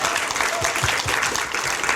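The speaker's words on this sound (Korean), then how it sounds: "진짜 우리 박수 한번 주세요." A studio audience on a Korean talk show gives a brief round of dense, lively applause. Low voices cheer faintly beneath the clapping.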